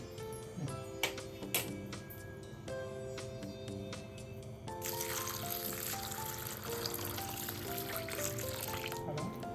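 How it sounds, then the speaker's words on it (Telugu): Water is poured into a bowl holding chickpeas, green gram, rice, urad dal, fenugreek seeds and dried red chillies; a steady close splash and trickle runs throughout, thickening and growing louder midway through. "నీళ్లు పోసి"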